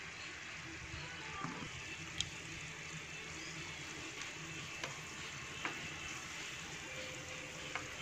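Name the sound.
frying banh cam cakes in hot oil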